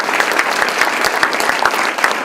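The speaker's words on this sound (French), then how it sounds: "J'aimerais qu'on l'applaudisse," A cocktail-dinner audience applauds a guest being invited up to speak, a steady close wash of clapping that holds for the whole stretch with no voices.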